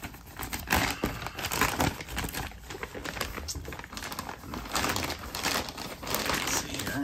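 Plastic mail bag crinkling and rustling as it is opened by hand, a busy irregular crackle of close handling that carries on throughout without talk.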